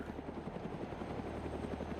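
Helicopter landing close to a tree in the Arma 3 video game: steady rapid rotor chop over a constant engine drone, moderately near and continuous, with no talk.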